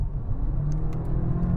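Several cars, a BMW M8, a Nissan GT-R and a Ferrari V12, accelerate together in a rolling race from 50 mph, a steady loud engine roar with no voices over it.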